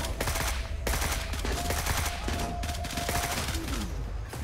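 Gunfire in Gray Zone Warfare, a rapid fusillade of repeated sharp shots and bursts at moderate distance, fairly quiet overall, with no clear voices.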